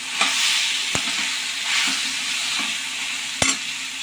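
Brinjal pieces fry in a hot pan with a steady sizzle while a spoon stirs them, with several sharp scrapes and knocks against the pan.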